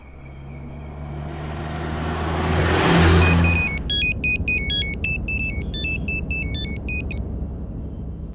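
A mobile phone ringtone plays a loud, repeating electronic melody in rapid bright beeps, following a swelling rumble like a passing vehicle, in an English-dubbed movie scene.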